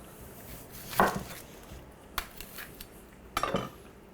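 A knife chops through an onion on a cutting board, with two sharp, close cuts about two and a half seconds apart and a few light taps and clicks between them.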